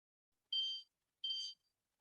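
Two short, quiet electronic beeps from a kitchen timer, evenly spaced about half a second apart, with silence around them.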